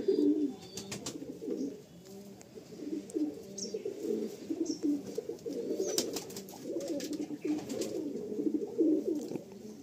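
Continuous soft cooing of a lively, handsome bloodline pigeon, repeated rolling calls close by with a few faint chirps and rustles, no talking.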